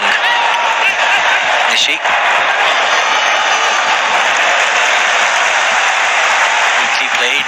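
A packed football stadium crowd at the Kobe stadium applauds and cheers in a loud, continuous roar, with a commentator's voice briefly over it.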